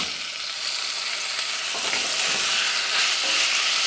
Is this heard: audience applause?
no